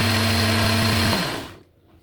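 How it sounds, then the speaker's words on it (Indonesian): A blender grinds shallots, curly chili, garlic powder and spices, a loud steady motor whine that winds down and cuts off near the end. "Nah, kita blender dulu"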